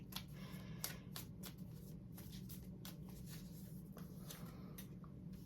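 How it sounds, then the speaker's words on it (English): Ascended Masters oracle cards are shuffled by hand in quiet, repeated riffles and soft flicks over a low background hum, faint and close. "And now I'm actually shuffling the card, the Ascended Masters card, for our 3-card pick."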